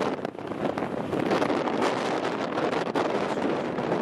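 Strong wind buffets the microphone outdoors in Holyrood Park, a loud rumbling roar with gusty swells and crackling bursts, with no voices over it.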